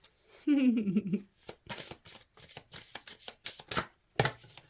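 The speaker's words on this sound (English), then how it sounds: "All I've gotta do is stop fumbling cards." Tarot cards shuffled by hand with a rapid run of crisp riffling flutters and snaps, irregular and close, after a short voiced sound at the start.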